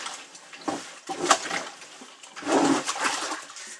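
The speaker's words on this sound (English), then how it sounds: "we're going to go ahead and take this and we're going to dump it out in the sink" A heavy container of liquid, mixed for treating hides, is tipped out into a sink in a couple of splashing surges, with a brief pour early and a longer gush near the end.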